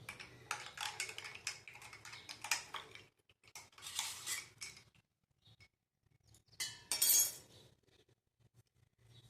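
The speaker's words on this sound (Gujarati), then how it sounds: "હવે આપણે એને હલાવી નાખશું." Spice masala stirred into buttermilk in a vessel: a spoon scrapes and clinks against the metal pot in several bursts of quick, close stirring, with brief quiet pauses between them.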